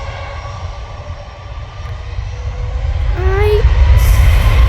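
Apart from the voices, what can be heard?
Ryanair airplane at Manchester Airport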